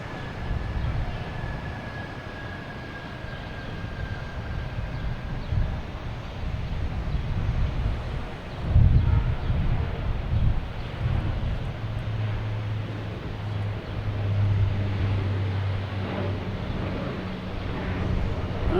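A Porter airliner departing Boston Logan Airport for Toronto, a broad distant jet roar with a low rumble swelling toward the end.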